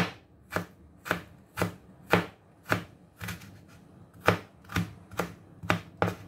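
A knife chops ginger into strips on a cutting board, sharp knocks landing at a steady pace about twice per second, close and crisp with no talking.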